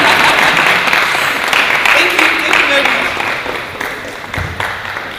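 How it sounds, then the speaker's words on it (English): Steady applause from an audience in an international hall as speakers walk off stage, dense and continuous, tapering slightly toward the end with faint voices mixed in. "you continue to clap for them until they leave the stage."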